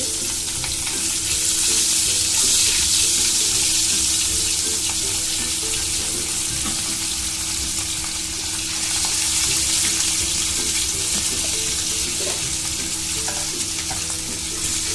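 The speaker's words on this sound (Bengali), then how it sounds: "তেল গরম হয়ে গেছে, এখন মাছটা আমরা দিতেছি" Fresh mirka fish fries in hot oil, a loud continuous close sizzle with bursts of spitting and some stirring, for a tomato fish curry, with no talk.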